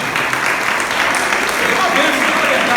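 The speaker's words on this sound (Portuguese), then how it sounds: "uma salva de palmas para ele" Inside a church at a youth gathering, the congregation claps for a preacher's assistant, a loud, dense wash of applause with voices mingled in.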